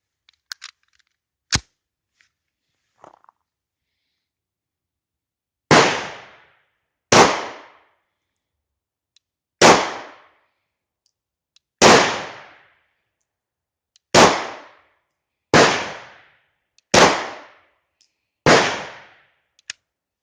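A German P.08 Luger pistol fires eight sharp, loud, close shots at uneven intervals of one to three seconds, with a few faint clicks and small handling noises before the firing begins.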